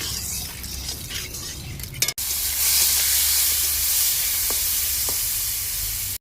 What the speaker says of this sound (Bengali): কড়াটা যেহেতু গরম হয়ে গেছে তাই একটু হলদি দিয়ে দিলাম, কারণ মাছটা ভেজে নেবো ভালো করে।